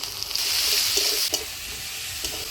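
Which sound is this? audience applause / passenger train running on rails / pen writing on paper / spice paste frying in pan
spice paste frying in pan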